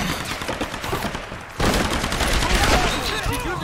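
Gunfire in the video game Tomb Raider, a dense, continuous burst of shots that grows louder and fuller partway through, with no talking over it.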